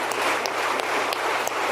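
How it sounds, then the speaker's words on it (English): Dense, continuous applause from an audience during a played speech recording, a loud steady wash of many hands clapping quickly, with no voices heard over it. "Oh man, look at how fast he's clapping."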